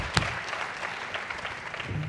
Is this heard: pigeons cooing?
no